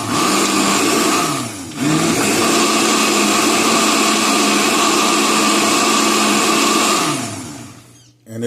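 A kitchen blender runs on its chopped diced salsa setting for beef tacos' green salsa, a loud steady whir that briefly dips near the start, then resumes before winding down.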